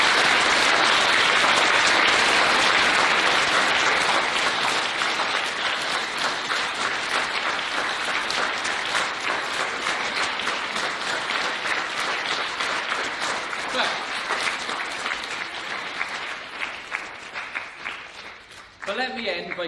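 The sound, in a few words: school assembly applause for teachers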